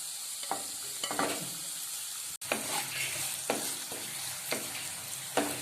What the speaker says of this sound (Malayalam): പാനിൽ എണ്ണ ഒഴിച്ച് ചൂടാകുമ്പോൾ ഇഞ്ചി അതിലിട്ട് മൂപ്പിച്ചെടുക്കുക